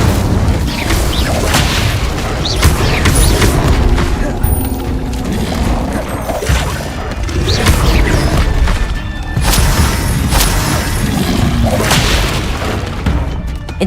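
Incendio fire spells cast in Hogwarts Legacy on hard difficulty blast out as loud repeated booming bursts over a constant roar of combat noise, with a voice speaking at times.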